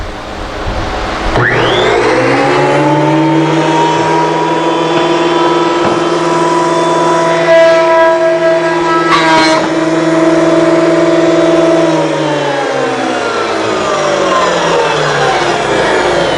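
Wood planer spinning up and feeding a wooden board during a plaque carving project, a loud steady motor whine with harmonic drone, pitch dropping as the board bites then rising again.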